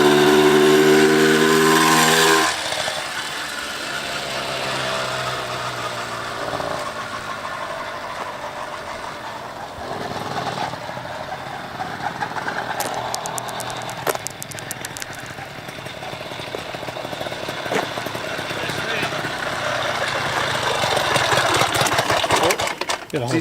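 A small gas-powered motorized bicycle engine runs with a steady buzzing putter, louder at first and then continuing at a lower level with faint clicks and a slight rise toward the end.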